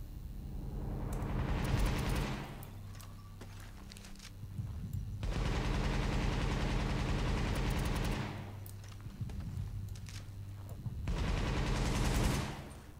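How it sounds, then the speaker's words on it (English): Automatic weapons fire in a shooting range in The Division video game, three long sustained bursts of rapid shots with brief lulls between, loud and close, no talking. "Let's see what this build is doing here in the shooting range. So I'm going to nade myself. And start shooting."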